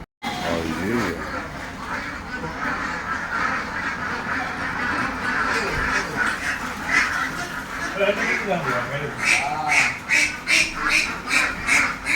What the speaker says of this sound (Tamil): லைவாக வாத்து லைவ் வாத்து.